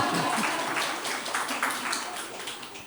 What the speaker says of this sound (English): Clap for that at least, guys.